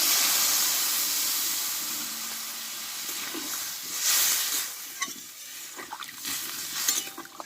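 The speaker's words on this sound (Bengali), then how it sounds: "দেখো এবার জলটা দিয়ে দেবো পরিমাণ মতো" Water poured into a hot pan of frying small fish and cauliflower sends up a broad steamy hiss that fades, followed by softer bubbling and a few spatula stirs, close and without talk.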